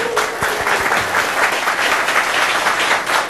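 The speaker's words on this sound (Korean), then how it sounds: "박수를 한번 보냈으면 좋겠어요." Studio audience at a Korean broadcast talk program gives a loud, continuous round of applause, many hands clapping densely and evenly, with a few sharp individual claps near the start.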